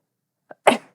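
A single sharp human sneeze, a short intake catch followed by a loud explosive burst, close and alone in silence.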